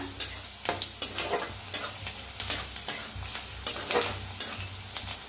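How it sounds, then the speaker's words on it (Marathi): Onion fries in hot oil in a kadhai, giving a dense, continuous close sizzle broken by regular stirring scrapes and clacks, with nobody talking. "तेल या त्याच्यात टाकूया कांदा बघा कांदा असा छान असा भाजायचा"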